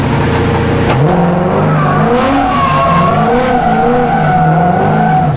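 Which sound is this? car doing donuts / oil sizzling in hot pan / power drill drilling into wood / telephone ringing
car doing donuts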